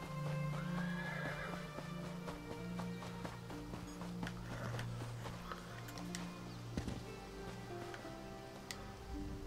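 Horse whinnies and neighs near a stable in Elder Scrolls Online, rising over a busy game soundscape with clip-clopping hooves, faint ticks and a steady low musical hum throughout.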